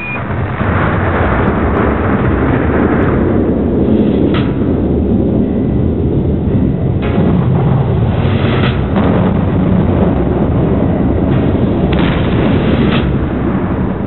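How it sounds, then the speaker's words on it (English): The 1949 Soviet atomic bomb test, Joe 1, produces a continuous loud, deep roar and rumble with rolling blasts, heard on an old, muffled, low-fidelity recording. "Then, in August 1949, the Soviets successfully tested a bomb of their own."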